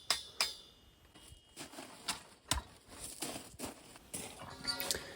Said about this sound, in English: Just hammer that in there.